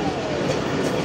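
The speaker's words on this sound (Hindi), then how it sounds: "शोरकोट छावनी जंक्शन रेलवे स्टेशन अप्रोच बना रहे हैं" The Millat Express rumbles steadily as it approaches Shorkot Cantonment Junction station, a loud, continuous rolling roar of wheels and carriages with no pauses.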